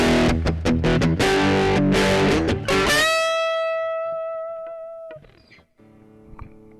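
An electric guitar on its humbucker pickup plays through an MXR Tom Morello Power 50 overdrive pedal. A run of loud, distorted, choppy strummed chords ends on a held chord that rings out and slowly decays, followed by a few faint picked notes.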